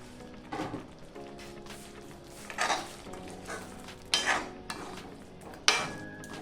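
Cabbage manchuria being stirred into gravy in a pan: a few scraping, clinking spoon strokes against the pan, spaced about a second apart over a soft low sizzle, no voices.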